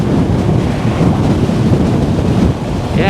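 Strong wind buffets the microphone in a steady, loud roar with low rumbling gusts throughout while riding a Super73 72V electric bike, and no voices.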